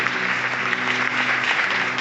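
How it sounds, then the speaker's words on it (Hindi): A church congregation claps together during worship, a dense, steady burst of applause filling the room for about two seconds. "आइए हम ताली बजा के उस सामर्थी परमेश्वर का स्वागत करेंगे।"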